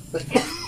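One short, close cough bursts out, brief and throaty.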